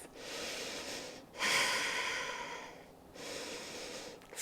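Slow, deep breaths from a woman holding a plank in a prenatal yoga routine, with one long airy exhale, a stronger inhale, then another exhale, close and fairly loud with no talking.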